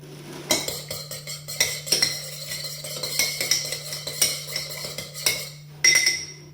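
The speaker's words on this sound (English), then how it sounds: "Now we're going to beat the eggs by stirring the eggs with our spoon." A spoon beats eggs in a bowl (mug) for a breakfast sandwich, giving rapid, uneven clinks and scrapes that run steadily and close, with a steady low hum underneath and a sharper clink near the end.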